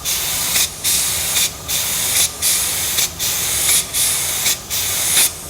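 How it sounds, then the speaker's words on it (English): Aerosol spray paint hisses onto a model from about 30 cm away in slow sweeping passes: roughly seven loud, steady bursts, each cut by a brief pause, with no talking. "And you spray in slow sweeping motions."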